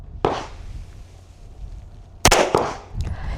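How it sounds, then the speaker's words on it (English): Handgun shots fired on an outdoor range at five yards, one sharp loud report near the start, then a close pair of cracks later and a fainter final pop, with quiet ambient noise between. "When you're ready, go ahead, present, and fire."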